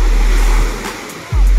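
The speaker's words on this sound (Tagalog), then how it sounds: "ang alon ay medyo malaki" Fairly large sea waves roll and break along a shore where fishermen land a boat, a steady wash of surf that swells louder near the end.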